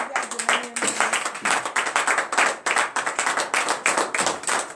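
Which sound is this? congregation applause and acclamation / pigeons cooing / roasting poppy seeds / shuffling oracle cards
congregation applause and acclamation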